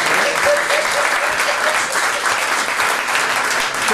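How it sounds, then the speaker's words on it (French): Steady, dense applause from an audience at a triathlon awards ceremony as nominees are announced, sustained at an even level throughout with no break. "On les applaudit."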